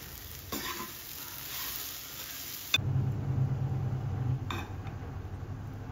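A spoon stirs soaked poha with roasted peanuts in a hot pan, a soft scraping and sizzling that shifts in character midway, with a couple of sharper scrapes against the pan.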